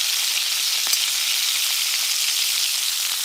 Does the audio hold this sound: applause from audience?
no